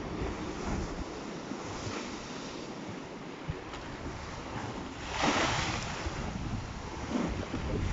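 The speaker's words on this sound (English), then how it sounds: "Waves are gathering in this corner and flying over." Stormy sea waves crash and throw spray over a harbour wall at Whitby during Storm Isha, with heavy wind buffeting the microphone, a steady roar building to louder surges as waves break near the wall.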